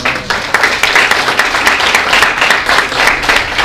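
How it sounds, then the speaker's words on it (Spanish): A church congregation applauds loudly and continuously, a dense, close burst of many hands clapping in a reverberant hall. "¿Cuánto le dan un aplauso al Señor?"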